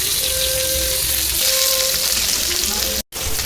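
Sliced onions and green chilies sizzle and crackle in hot oil with bay leaf and five-spice seasoning, a loud continuous fry close up, with a brief dropout near the end.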